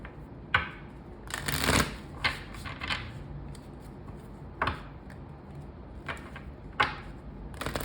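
An oracle card deck is shuffled close by, with soft papery riffles and slaps coming in short, irregular bursts over a quiet room.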